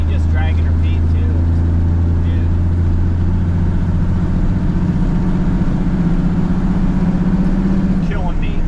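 A 1983 Kenworth K100 truck engine drones loud and steady from inside the cab as it works through the gears on a snowy road, a constant low rumble with slight shifts in pitch and a voice talking over it.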